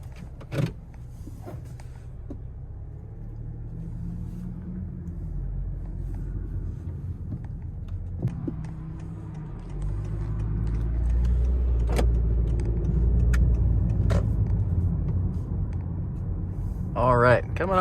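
A 2018 Honda Accord EX sets off on a drive, low engine and road rumble rising as it gets moving, with a power window whirring and a few clicks and knocks inside the cabin while a person talks.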